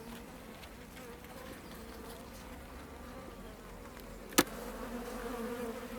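Honeybees in a brown hive buzz as a steady, soft drone during a hive inspection. A single sharp click of a frame sounds near the end, and the buzzing swells slightly afterward.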